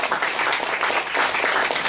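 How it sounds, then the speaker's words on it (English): Sustained crowd applause, dense and steady clapping filling the whole stretch with no voices over it. "I request all of you to give a very good round of applause"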